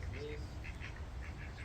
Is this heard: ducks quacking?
yes